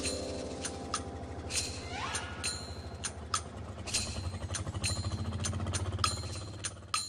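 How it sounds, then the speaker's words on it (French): A fishing boat's motor runs off the coast of Brazil, a close, rattling engine chugging in a fast steady rhythm with sharp metallic clinks scattered throughout. "Faut que je coupe le moteur parce que ça fait trop de bruit."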